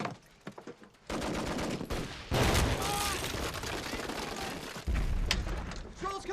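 Heavy gunfire from an action movie battle, loud bursts of automatic fire and shots layered with mechanical clatter, continuous and dense throughout with shouting voices underneath.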